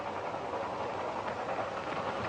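A train rounding a bend, heard as a steady rumbling roar of rolling wagons that holds even and moderately loud throughout, with no voices.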